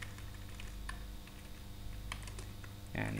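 Keys clatter on a computer keyboard as a passwd command is entered in a Linux terminal during single-user mode recovery on RHEL 5, a steady run of close, light clicks with a denser burst at the end.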